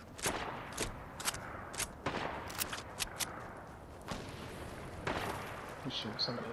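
Fortnite gunfire in a duos match rings out as a string of sharp, distinct shots, some spaced and some close together, fairly loud, with a voice talking intermittently among them.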